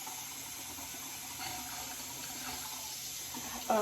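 A kitchen tap runs water in a house with an electric stove, a faint, steady, hissing stream filling a vessel for tea, alone and at low level.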